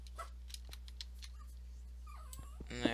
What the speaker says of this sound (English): there's my dog Scooter whining now.